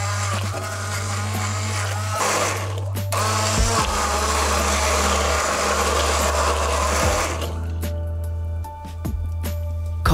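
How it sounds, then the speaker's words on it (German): A blender purees Mulligatawny soup, whirring steadily for several seconds, its motor droning with a gritty churning texture, then briefly cuts out and restarts near the end. "Wir pürieren jetzt die Mulligatawny, wir machen das nicht komplett glatt"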